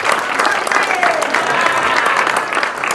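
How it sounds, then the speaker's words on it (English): Loud, dense applause from a crowd at a Ruracio gathering in Embu for Dr. Sam Obuku, with cheering voices mixed into the clapping throughout. "Can we give him a round of applause?"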